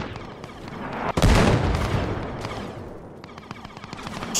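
Gunfire in Arma Reforger with a sci-fi Galactic Forces mod, a sharp close shot followed by a rolling booming echo, then scattered distant shots and rattling bursts in a battle soundscape.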